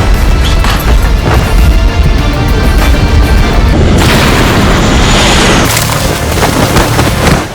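An airplane explodes in a Korean drama, heard as a loud, sustained booming rumble with crackling bursts that roll on for several seconds before cutting off.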